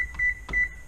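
A kitchen timer being set gives two short, high, clean beeps about a third of a second apart, close and clear above a low background rumble.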